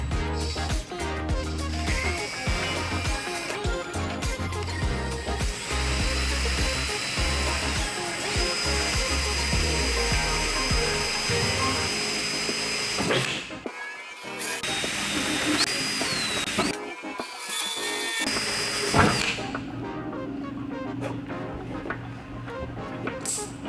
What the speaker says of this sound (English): Now that we've made our pilot holes, we're going to step up to a bigger bit.